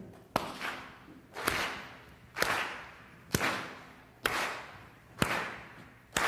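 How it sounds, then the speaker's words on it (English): A keynote audience claps together in unison, six sharp, loud, synchronized claps spaced evenly about once per second, each with a brief hall echo trailing off. "Let's clap in unison together."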